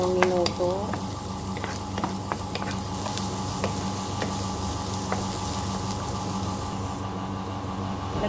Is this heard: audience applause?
no